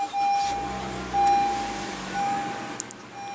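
A 2015 Honda Civic's 1.8-liter four-cylinder engine idles steadily after a push-button start, a low, even hum with a few faint electronic beeps over it and no talk.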